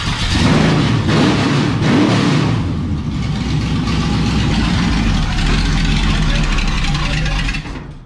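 A 1972 Richard Petty tribute race car's engine runs loudly and close by, with a rough rumbling idle and a slight rise in revs early on before holding steady, then cutting off at the end.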